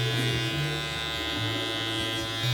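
Electric hair clippers run close up with a steady loud buzz during a short fade haircut on curly hair, trimming around the neck and hairline, the motor tone wavering slightly as it cuts, with no talking.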